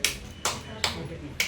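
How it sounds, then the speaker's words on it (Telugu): Hands clapping at a birthday celebration: four sharp, separate claps at uneven intervals, fairly close, under low background chatter. "పైన చప్పట్లు కొట్టండి"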